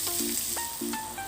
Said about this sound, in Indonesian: kemudian tambahkan dengan 50 ml